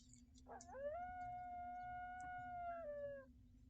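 A dog howls in the horror video game Angels of Death: one long, steady, tonal howl that rises and holds for a few seconds, then drops off. It sits over a low constant hum in a quiet basement scene.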